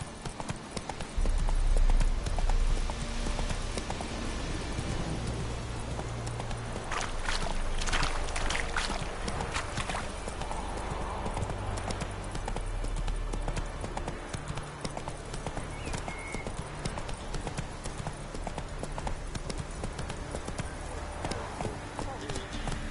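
Horse hooves clip-clop steadily as a rider travels in The Witcher 3, with a rhythmic thudding gait under ongoing spoken dialogue.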